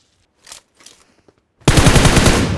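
Automatic gunfire from PUBG Mobile erupts loud and continuous after a quieter stretch of faint game sounds, a dense burst of rapid shots filling the last second of the clip.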